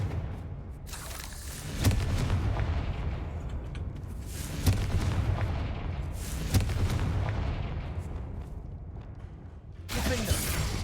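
Confringo fire-blast spells go off in Hogwarts Legacy, booming blasts that recur every couple of seconds over a dense, rumbling game soundscape, loud and close.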